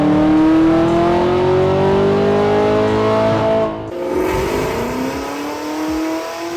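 A bolt-on 2021 Camaro ZL1 1LE on a dyno, its engine climbing in pitch under a hard pull, then the revs drop sharply off-throttle and settle into a lower burbling rev; loud and close, no talking.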